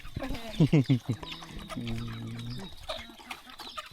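Chickens cluck in a rural Lao village yard, rapid clucks and squawks close by, mixed with other farm noise while people talk.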